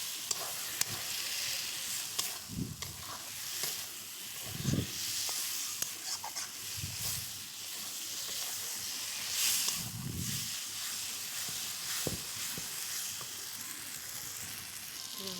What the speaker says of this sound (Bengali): আলুর সঙ্গে মশলাটা কষিয়ে নিতে হবে